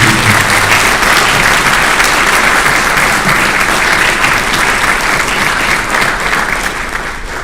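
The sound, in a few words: audience applause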